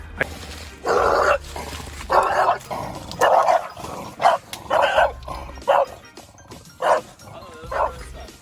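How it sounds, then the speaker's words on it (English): Neighbour's dogs barking repeatedly outdoors by a house garden, a string of close, loud woofs and yips in irregular bursts with short gaps between them. "Look, we have some dogs here."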